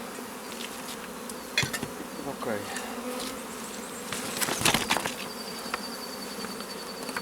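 Honeybees buzzing around an opened hive during a colony inspection, a dense close hum with individual bees zipping past the microphone, while someone briefly says a word or two.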